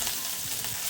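Crushed ginger and garlic sizzle in hot oil, a close, steady hiss with faint stirring scrapes, heard alone in a short burst.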